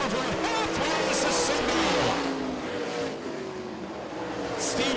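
Supermodified race cars racing at speed around the oval at Lancaster Motorplex, a loud continuous engine roar that swells and fades slightly as the cars pass, with no voices.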